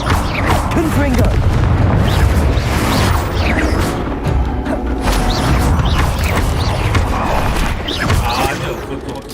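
Confringo fire-blast spell explosions in the Hogwarts Legacy video game, loud dense booms and crashing bursts filling the whole stretch with rumbling impacts amid battle noise.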